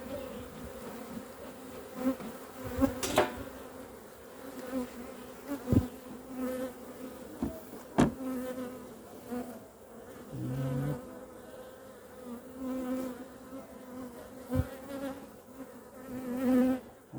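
Honeybees being transferred into a brand-new beehive, with a steady close swarm buzz throughout, individual bees droning past, and a few sharp knocks and taps from handling the hive.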